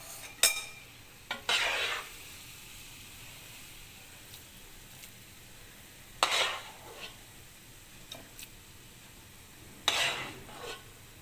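Carrot halwa is scooped from a pan after the stove is switched off, with a few scattered scrapes and spoon clinks separated by quiet pauses, faint and close.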